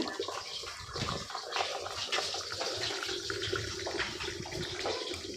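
Tap water runs steadily while something is rinsed and washed in a home kitchen, a continuous splashing rush with clatter, close and fairly loud.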